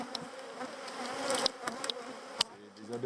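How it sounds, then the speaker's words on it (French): Bees buzz around an open beehive whose colony is restless and stinging, a dense drone with individual insects whizzing close past now and then, fairly quiet overall and with no voices. "C'est des abeilles qui te stressent, tu vois."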